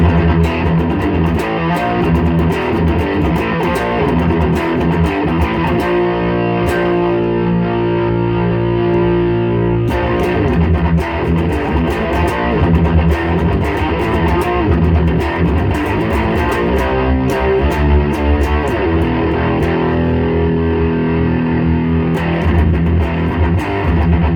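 A heavily distorted electric guitar runs through a distortion pedal with the bass swept fully, giving classic metal tones; dense, loud riffing and sustained chords play without pause, no talking.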